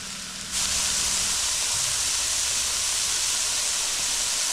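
Onions and mushrooms cooking together in a pan produce a bright, continuous sizzle that steps up in loudness after a brief quieter start and then holds steady without talk.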